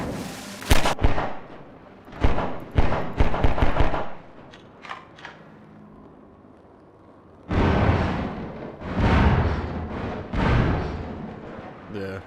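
Explosions in the video game Half-Life 2, a few sharp loud blasts and crackling bursts early on, a quieter pause, then a longer rumbling roar of detonations, with a voice talking in between.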